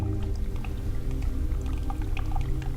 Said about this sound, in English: There's some water running down this wall, and it's making this interesting burbly noise.